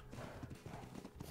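Hooves of a horse galloping in Ark: Survival Evolved, a rapid, steady clip-clop rhythm heard up close over about a second, with no talk.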